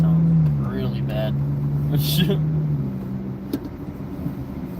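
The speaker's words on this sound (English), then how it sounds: "Sounds like a sports car muffler, but it's on like a Subaru." A Subaru with a loud sports-car muffler rumbles nearby, a low throaty droning growl that rises briefly, while people talk over it.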